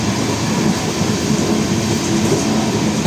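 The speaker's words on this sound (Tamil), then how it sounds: "ட்ரெயின் கிளம்புன பிறகு பார்த்தீங்கன்னா பயங்கரமாக ஸ்பீடு 110 km போயிட்டு இருக்குது" A passenger train on the Mayiladuthurai to Karaikudi line runs at speed, a loud, steady rumble and rattle heard from close by, with no talk.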